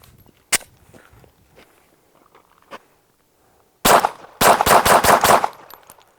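Pistol firing about six rounds from a red-dot RMR sight mounted with no screws: a lone shot, then a dense burst of loud, sharp reports with handling clicks and rustle between.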